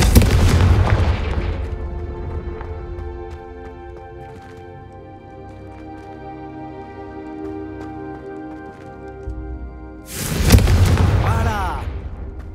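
A Confringo fire spell explodes in Hogwarts Legacy with a loud booming blast, followed by a long ringing musical decay and then a second heavy burst near the end.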